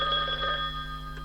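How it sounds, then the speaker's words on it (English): A telephone rings with an incoming call, a steady electronic ring heard up close over a low background hum, with no talking. "Oh, we have a phone call."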